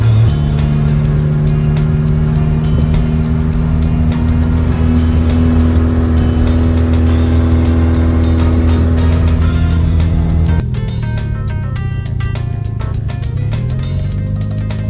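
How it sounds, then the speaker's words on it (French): A car engine strains up a steep mountain road, a loud continuous drone with a steady low hum that drops in pitch near the end as the load shifts. No talk. "La caisse elle a du mal là, elle arrive pas."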